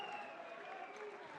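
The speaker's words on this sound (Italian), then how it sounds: "adesso si prende gli applausi dei propri tifosi" Fans applaud their team at Stadio Matranga during a Sicilian Eccellenza football match between Castellammare and Pro Favara, a steady wash of clapping and crowd noise from the stands throughout, with no clear talk.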